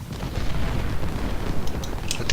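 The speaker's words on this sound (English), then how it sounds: "the cannons are doing their job at just blasting away at them" Cannon artillery fire in a Civil War battle video game booms continuously in a dense, rumbling barrage, with sharper distant cracks popping through near the end.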